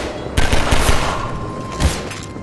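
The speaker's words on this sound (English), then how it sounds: "If you are using the crowbar, shoot the barrel, then sprint past the first guard and shoot the second." Half-Life 2 gameplay with a rapid burst of close gunshots followed by a heavier blast from an exploding barrel, loud and punchy against a low background hum.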